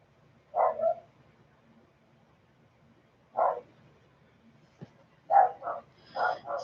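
A dog barks in short bursts from a distance, across the way near a neighbor's open front door, with long quiet gaps between a single bark, another, then a quicker cluster of barks at the end.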